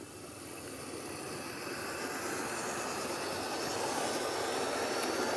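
A Hornby Britannia tender-drive model locomotive runs with its train, giving a steady, continuous rolling whir and rail rumble that holds at an even level and grows slightly louder throughout, with no one speaking.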